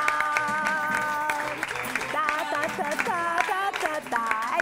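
A festival audience on an Italian music show applauds to welcome a guest onto the stage, steady clapping mixed with loud music and a voice.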